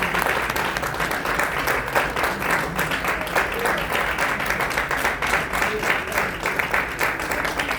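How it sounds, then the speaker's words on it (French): An audience at a summit presentation honouring a young African award winner applauds in a dense, sustained ovation of many hands, loud and constant from start to finish. "Sur vos applaudissements, s'il vous plaît."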